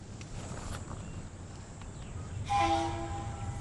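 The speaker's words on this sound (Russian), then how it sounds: "когда слышишь приближение большого дизеля" A big diesel train draws near on a Namibian railway line, a low rumble under steady background noise, and partway through a loud horn sounds with sustained tonal blasts.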